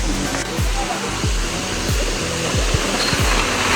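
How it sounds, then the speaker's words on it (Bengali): Elephant Falls in Cherrapunji, Meghalaya, roars as a loud, steady broadband wash of falling water, with repeated low thumps like footsteps on a path nearby. "ওই যে ফলসের আওয়াজ শোনা যাচ্ছে অলরেডি"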